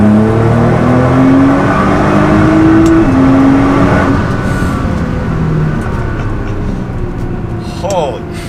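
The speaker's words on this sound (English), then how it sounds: "We'll get up going like 40 miles an hour and then pin it full throttle." A Stage 2 tuned Nissan GT-R at high boost accelerates at full throttle in third gear from about 40 mph, a loud engine note climbing steadily in pitch and then easing off, heard from inside the car.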